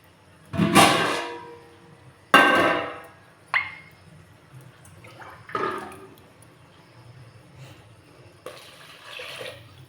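Water poured from a tumbler into a pot of mushroom biryani rice, several separate splashing pours, each a loud gush fading out, spaced a second or two apart in a quiet kitchen.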